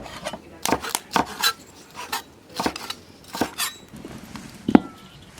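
A kitchen knife slicing garlic sprouts diagonally into strips on a cutting board in a rural home kitchen: a run of close, crisp chopping knocks in an uneven rhythm, about a dozen strokes with short pauses.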